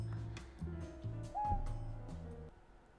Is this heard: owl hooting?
yes